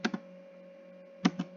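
Soft clicks of computer keyboard keys come in two quick pairs, one at the start and one near the end, faint and close over a steady electrical hum.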